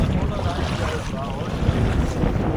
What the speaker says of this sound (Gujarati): પવન પાછો આમ બહારનો પવન.